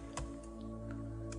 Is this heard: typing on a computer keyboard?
yes